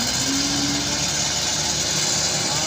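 A heavily loaded diesel truck labors up the steep Kedabuhan climb, its engine holding a steady, throaty drone under a broad wash of wind-like noise, with no voices.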